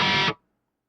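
A bass guitar played through a distorted modern metal bass amp preset on a mobile amp app, one short gritty, buzzing note that cuts off quickly with a short tail and no reverb.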